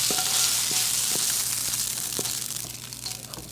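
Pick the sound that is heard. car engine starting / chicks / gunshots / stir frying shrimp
stir frying shrimp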